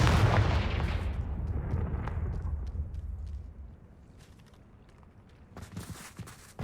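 A Confringo fire spell explodes in Hogwarts Legacy with a loud, rumbling blast that decays slowly over several seconds, followed by faint footsteps and a few sharp clicks near the end.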